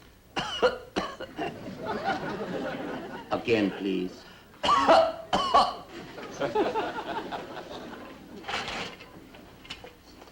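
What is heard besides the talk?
person coughing on request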